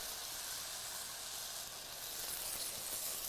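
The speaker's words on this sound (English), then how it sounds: "It's gonna give you that sizzle." Room-temperature water poured into a hot pan for a sauce, giving a steady, soft hissing sizzle throughout, with no talk.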